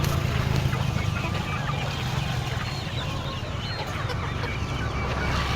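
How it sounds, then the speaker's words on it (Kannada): Four-month-old Mysore native chickens clucking in a dense, continuous flock chorus, with overlapping calls and a steady low background hum. "ಎಷ್ಟು ತಿಂಗಳು ಮರಿ ಇವು? 4 ತಿಂಗಳು ಮರಿ. ಇವು ಮೈಸೂರು ನಾಟಿ."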